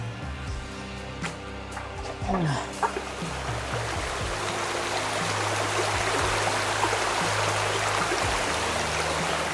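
Stream water flowing at a village washing spot, a broad steady rush that builds after a few seconds of handling noises and thumps, continuing evenly to the end.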